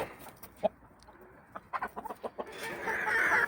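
Short clucks and soft calls from a nearby young rooster come in a quick irregular run, then a rising crow-like call with rustling at the end.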